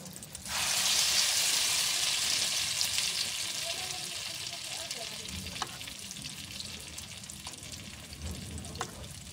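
Eggplant omelette (tortang talong) made with egg, dropped into hot oil, bursts into a loud bright sizzle that settles into steady frying with occasional crackles and pops.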